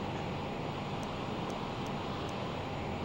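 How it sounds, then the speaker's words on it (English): Cockpit ambience of a Lear 35A jet in Microsoft Flight Simulator, a steady broadband airy rush like a dentist's suction, with faint periodic high ticks repeating about every half second. "This specific Lear has a looping dentist air suction kind of noise to it."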